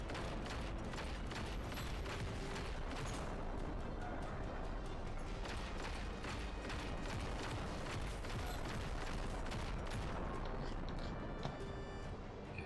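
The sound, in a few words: explosions and gunfire in the video game Just Cause 3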